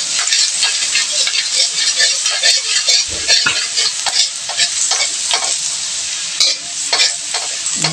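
Garlic frying in hot oil for garlic fried rice, a loud continuous sizzle close by, with frequent scraping stirs and light clinks of a utensil against the pan, no talk.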